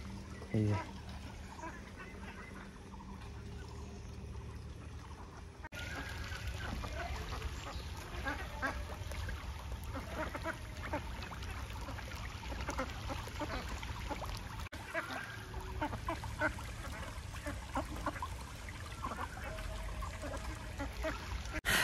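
Ducks quack and chatter on a duck farm near a pond, with a busy, continuous mix of calls at moderate distance, some trickling water and people talking at times.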